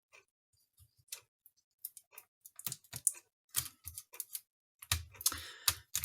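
An Asus X1500E laptop keyboard being typed on during a repair test: irregular clusters of close, crisp key clicks and taps, sparse at first and then quicker, in an otherwise quiet room.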